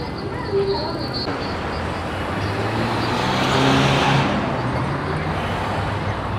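A small-route Mexican city bus in street traffic near the Zócalo in Mexico City drones past at close range, its low engine rumble swelling to a peak midway and easing off over a constant wash of traffic noise and faint background voices.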